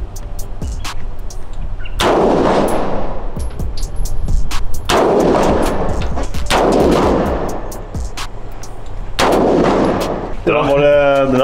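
Firearm shots fired outdoors, four heavy booming reports spaced a couple of seconds apart, each with a long rolling echo, loud and near.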